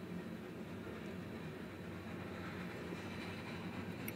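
A southbound BNSF coal train with two CSX distributed power locomotives rolls past, giving a continuous low rumble and a steady roar of wheels on rail that stays even throughout, with no voices.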